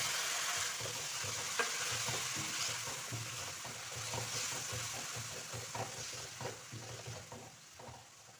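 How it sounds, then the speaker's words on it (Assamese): Jackfruit pieces fry in a pan with a little water added, a quiet close sizzle broken by repeated scraping and stirring strokes of a spoon over about eight seconds, no talk. "মই পানী অকণমান এড কৰি এনেকৈ ভাজি ল'ম"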